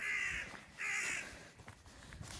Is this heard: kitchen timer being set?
no